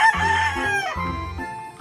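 A toy chicken plays a recorded rooster crow, one loud close cock-a-doodle-doo with a few clucking notes that fills the short stretch on its own.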